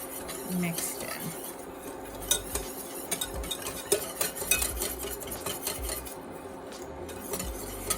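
A spoon scrapes and clinks against a pan while Swiss and cheddar cheese sauce with garlic powder is stirred, irregular metallic taps and scrapes at close range, with faint background sounds.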